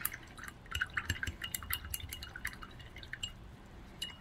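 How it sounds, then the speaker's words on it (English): A paintbrush is swished and tapped in a glass of water, producing close, irregular drips, splashes and light clinks against the glass for several seconds. "I'm just cleaning my brush off in the water over here."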